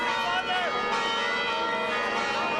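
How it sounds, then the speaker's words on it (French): Church bells ring at Etchmiadzin cathedral during a papal visit, sustained tonal peals blending into a continuous ringing wash at moderate distance. "Et pour accueillir le pape François, les cloches résonnent dans Etchmiadzin"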